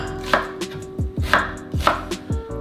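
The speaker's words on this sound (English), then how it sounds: "Green onion. Just kind of rough chop those." A knife rough-chopping green onions on a cutting board, several evenly spaced close thuds with no talk.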